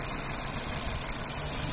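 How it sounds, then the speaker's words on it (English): A 1.6 Zetec petrol engine in a Ford C-Max runs at idle, a close, steady hum with a light rhythmic rattle and no talking over it. "engine sound very nice and smooth"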